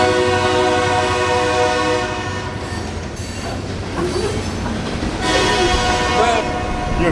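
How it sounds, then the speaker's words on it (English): A train passing at night on a road trip from New York to Florida, with loud sustained horn blasts over the rumble of rolling railcars, recorded nearby from a vehicle. "Why is the train blasting the horn?"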